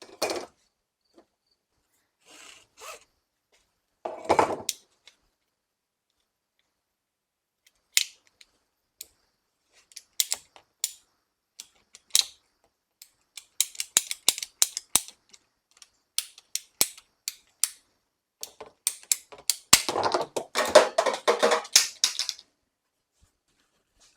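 A hacksaw cuts PVC pipe for a DIY kayak launch roller, giving sparse, irregular rasping strokes that grow denser and steadier toward the end, with no talking.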